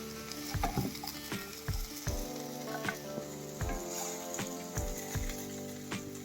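Bottle gourd fry with coconut, peanut and sesame powder sizzles steadily in a pan while a spoon stirs it, knocking the pan in repeated sharp clacks at an uneven rhythm, up close with no talking.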